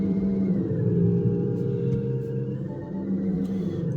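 A steady, loud engine-like drone with a low rumbling roar, held constant with slight swells, heard from inside an electric car revving in park through an active exhaust sound system.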